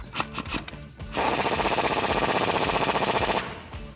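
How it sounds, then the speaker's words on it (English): A 21mm socket and wrench tightening the bottom shock bolt and nut on a 1999-2006 Chevrolet Silverado or GMC Sierra with a leveling lift kit, a few clicks, then a sustained fast ratcheting rasp that stops abruptly. "Now we're ready to tighten down this bottom bolt and nut, and again, it's a 21mm socket and wrench."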